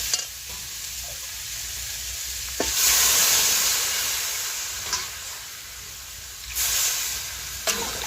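Water goes into a hot pan of potato and pumpkin fried with spices, setting off a loud rushing hiss of steam. The hiss swells and fades, then flares again later, with occasional stirring clinks and no talk.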